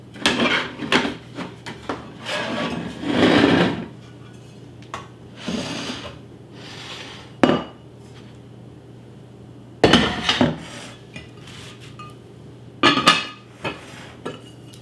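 Metal Caraway cookware lids clatter and clink as they are set onto pots and a saucepan, in scattered bursts of handling noise separated by quiet gaps.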